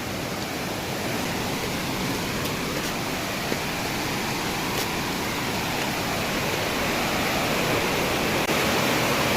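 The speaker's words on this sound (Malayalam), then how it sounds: "ചെറിയ ഭംഗിയതാ, ചെറിയ വെള്ളച്ചാട്ടം." A small waterfall near a farm pours with a constant, full rushing roar of falling water, close by and unbroken for the whole stretch, with no voices.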